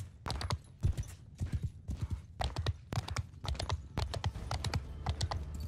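Horse archers gallop in Mount & Blade II Bannerlord, their hooves drumming in fast, steady clip-clop bursts that run the whole way through, close and fairly loud, with no talking.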